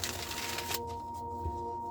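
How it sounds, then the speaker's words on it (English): A deck of cards being shuffled during a tarot-style reading, a brief riffling burst in the first part that stops abruptly, followed by quiet with a steady low hum. "we're going to do one more shuffle"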